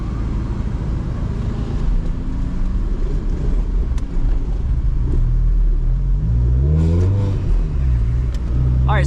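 A supercharged Mazda ND Miata accelerates on a track in second gear. Its engine gives a low, loud, droning rumble, then a clear rising rev sweep near the end.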